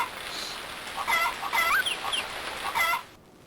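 Chickens in the game Harvest Moon: More Friends of Mineral Town cluck in a short run of close, clear calls over a steady background hiss, with no voices.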